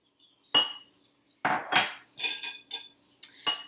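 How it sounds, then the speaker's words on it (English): Cauliflower being mixed with egg whites in a bowl gives a handful of close, sharp clinks and scrapes of a utensil against the dish, in irregular bursts separated by short pauses, with no talking. "So you take the cauliflower, 1/4 of a cup of egg whites, and you mix it in."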